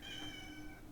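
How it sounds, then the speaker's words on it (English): A domestic cat gives a single drawn-out meow to be let outside, faint and brief. "My cat wanted to go out."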